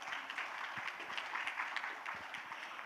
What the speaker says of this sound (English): A big round of applause before we start.